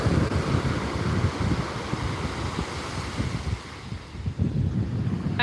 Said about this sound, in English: Today is a nice day because it gets extremely windy here.